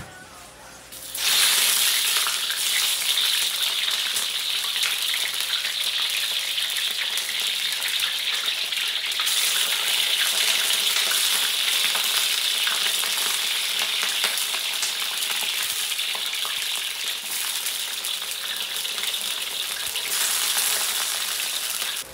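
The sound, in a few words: eggplant frying in hot cooking oil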